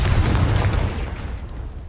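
Confringo blasting curse explosion in the Hogwarts Legacy video game: a loud, low booming burst that rumbles at once and slowly fades over about two seconds, heard alone without talk.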